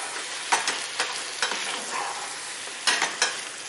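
Meat and grated bottle gourd stirred in a pot on a hot plate: a constant sizzling hiss broken by several sharp scraping strokes of the spoon, close, without speech.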